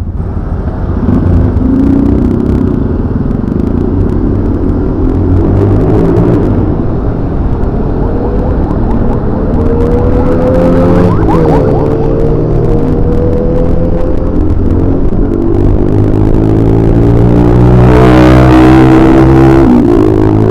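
Steady road traffic with cars and motorcycles passing on the way to Hinulugang Taktak, a continuous loud engine rumble with a vehicle sweeping by near the end, no talk.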